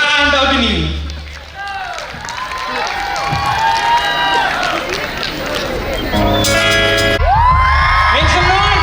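Audience at a school Model UN closing ceremony cheers, whoops and applauds as a band is welcomed on stage, a loud crowd roar under an amplified voice and music-like tones, swelling near the end.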